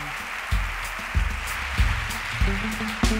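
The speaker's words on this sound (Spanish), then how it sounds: "Un fuerte aplauso, por favor" Applause for a speaker at a talk on impactful science for a more sustainable world, with a broad clapping wash punctuated by a few louder, low thumps at roughly even intervals, fairly close and without speech.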